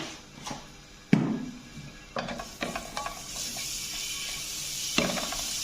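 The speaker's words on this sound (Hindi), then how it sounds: "इसके अंदर हम आधा चम्मच लहसुन डाल रहे हैं पिसा हुआ" Ground garlic sizzles in about two tablespoons of hot oil in a pan, a soft steady frying hiss broken by several sharp clinks and scrapes of a spoon against the pan.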